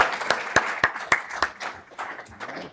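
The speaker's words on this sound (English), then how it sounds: "Let's give him a round of applause." A small startup audience gives a speaker a brief round of applause. A handful of sharp, close claps ring out clearly at first, then thin out into a softer, scattered patter with faint background murmur.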